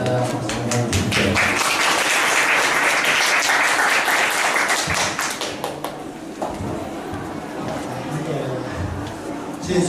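Audience applause welcoming a speaker to the stage at a lecture event, dense steady clapping from a crowd that swells then thins out toward the end.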